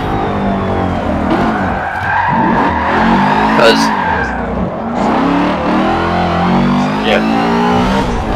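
A race car skids and crashes in a racing video game. Steady engine roar and tire scrubbing run throughout, close and loud, under continuous talk.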